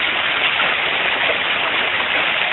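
Hail pelting into a roadside gutter during a hailstorm, a dense continuous hiss of splashing and drumming ice, steady and fairly loud with no talk.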